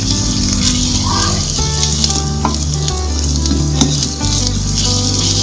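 Ginger-garlic paste sizzles and fries steadily in hot oil while a spoon stirs it, with occasional scraping clinks over the continuous crackle, close and fairly loud.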